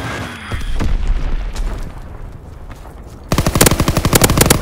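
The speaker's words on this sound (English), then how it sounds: "Enemy bomb incoming." In the WW2 Road to Prestige video game, a bomb blast booms and rumbles away amid scattered shots, then rapid, loud machine-gun bursts hammer in close and steady.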